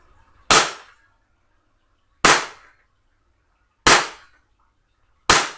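Four sharp, loud gunshots from a Taurus 24/7 G2 pistol, evenly spaced about one and a half seconds apart, each with a short decaying tail and silence between.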